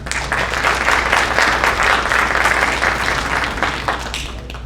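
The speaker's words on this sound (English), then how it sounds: "So I'd just like to give a round of applause to him for also helping us." Sustained audience applause fills a presentation hall during nuclear technology capstone presentations at a community college, a steady dense clapping that holds at even loudness throughout with no speech over it.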